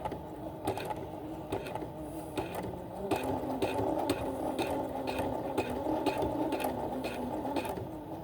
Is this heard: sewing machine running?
yes